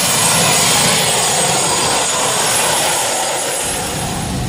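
Aircraft engine droning loud and close before a skydiving jump, a continuous steady roar filling the whole clip with no break.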